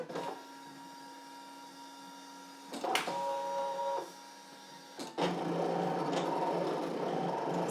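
A Brother ScanNCut machine cuts fabric with a steady mechanical whir and hum, close and moderately loud, broken by short clicks and carriage shifts as its motor changes pitch.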